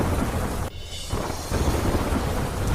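Heavy night rain pours in a dense, steady roar with low thunder rumbling beneath, briefly dipping before the downpour surges back, loud and close with no voices.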